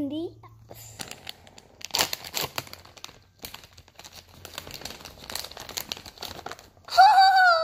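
Birthday present toys are unwrapped for a girl's sixth birthday, with bursts of paper crinkling, crumpling and tearing close by, while someone talks and squeals excitedly throughout.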